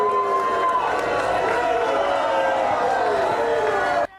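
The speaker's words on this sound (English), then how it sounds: "protesters made up more than half of the crowd today, many of them holding signs and even booing" A protest crowd outside the Government Center building in Plattsburgh boos and shouts in a loud, sustained wash of many voices that stops abruptly at the end.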